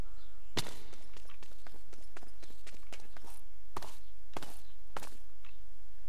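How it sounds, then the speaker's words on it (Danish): Armor clanking in step with running footsteps in Minecraft, a quick series of sharp metallic ticks and thuds at close range, steady and fairly loud with no talk. "når du løber, så kan du høre din rustning"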